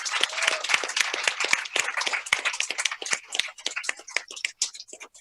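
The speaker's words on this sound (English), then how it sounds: "I'd like to everyone give yourself a round of applause." A modest audience at a closing ceremony claps in a brisk, scattered burst, close and clear, thinning into fewer, separate claps toward the end.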